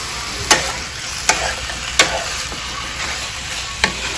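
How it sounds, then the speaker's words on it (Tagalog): Pork belly browning in a dry pan without added oil for Filipino adobo, with a steady sizzle broken by several sharp stirring scrapes spaced about a second apart, close up and with no talking. "Ipapula natin yung ating pork belly."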